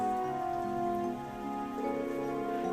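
Rain falls in Trails of Cold Steel as a steady, even hiss, with soft sustained music playing over it.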